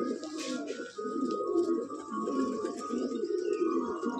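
Madrasi pigeons in a loft coo steadily in layered, throbbing low calls, several birds overlapping close by with no voices.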